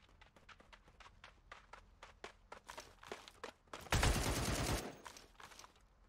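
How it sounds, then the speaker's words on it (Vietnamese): Rapid gunfire rings out in the video game Badlanders: a string of sharp, evenly spaced shots, then a loud burst of heavy noise like an explosion, with footstep-like taps mixed in. "Nghe thì tiếng súng ham vui à."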